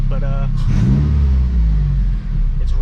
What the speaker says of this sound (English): So it's idling at 980 roughly RPMs